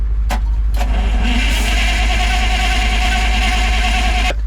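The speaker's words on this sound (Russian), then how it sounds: "Мотор не запустился," A ZIL-131 military truck fitted with a diesel engine cranks loudly and continuously at close range without catching, the starter's rhythmic churning running steadily for several seconds before it cuts off.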